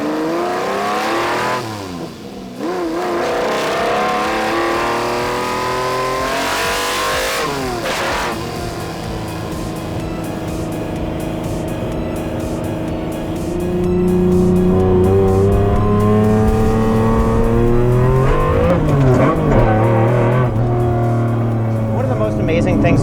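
A Lamborghini Diablo GT driven in Miami traffic, its engine climbing under throttle with a rising, layered intake roar from independent throttle bodies, close and loud, easing off then building again strongly toward the end.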